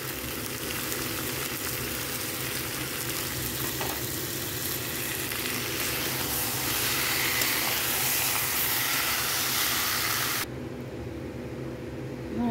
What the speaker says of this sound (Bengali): এবার টক দইটা দিয়ে আর একটু সাঁতলে নেব।